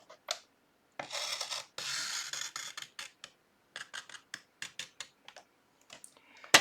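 Scissors snip through paper along a fold line while making a Christmas stocking, giving a series of close, crisp cuts with short pauses between them and one longer rasping stretch near the start.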